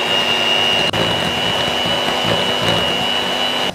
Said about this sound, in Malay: So kita kena whip dia sampai dia jadi kembang lah butter ni.